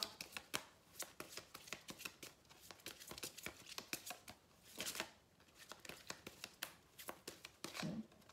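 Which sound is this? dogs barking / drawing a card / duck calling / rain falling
drawing a card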